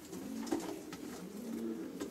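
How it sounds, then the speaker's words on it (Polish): A pigeon coos softly in an aviary at a Polish pigeon breeding loft, a low repeated burbling call close by, with faint rustling and no talk. "Widzimy jakiegoś gołąbka dorosłego, nakrapiany z białymi piórkami."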